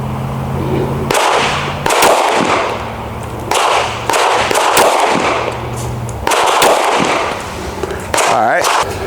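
Loud pistol shots from a Canik Mete MC9 Prime fired at close range outdoors, several sharp bangs in bursts, some in quick succession, with low speech in between shots.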